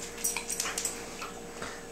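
A pet dog gives a few soft, high whimpers and yips close by, in short bursts over about two seconds.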